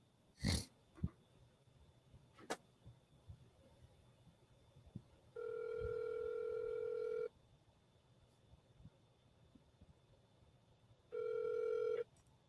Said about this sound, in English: Let's see if we can get him on the phone.